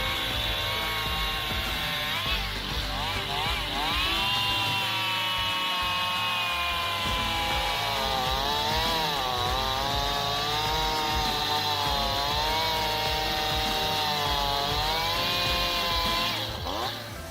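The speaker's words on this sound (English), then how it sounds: "the use of new heavy-duty wood cutting machines can ensure that they are easily cut" A heavy-duty chainsaw cutting machine saws through hardwood with a continuous high-pitched engine whine that wavers in pitch as it bites into the wood, loud and sustained with no voices.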